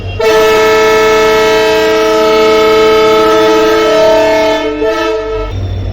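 A loud, sustained horn blares from a passenger special train pulling out of Gadag Junction, holding steady for about five seconds before trailing off over a low engine rumble.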